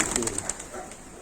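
Pigeons coo softly in a short burst, with a faint hum of background noise and no one speaking.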